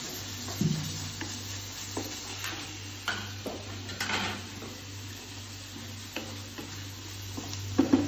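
Chicken and vegetables with herbs sizzle in a pan while a utensil stirs them, giving scraping taps and clinks over a steady frying hiss, with no talk.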